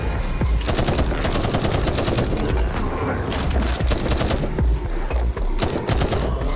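Rapid automatic gunfire in a zombie survival video game, dense overlapping bursts of shots near and loud, running almost without pause.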